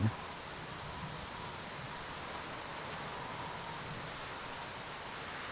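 Steady rainfall in the video game The Berlin Apartment gives a soft, even hiss that holds unchanged from start to end, quiet and without voices.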